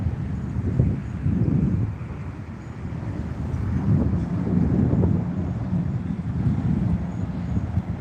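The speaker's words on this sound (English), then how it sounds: "It might sound windy on this, but it's not bad. It's a beautiful, warm wind." A warm wind gusts across the microphone outdoors at a wildlife refuge, making a continuous low rumbling buffet that swells and eases throughout.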